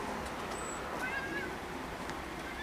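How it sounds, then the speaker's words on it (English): A tabby cat meows outdoors in a yard, a few faint, thin calls rising over steady background noise and distant ambience, with no talk. "Now we got a tabby cat on the property."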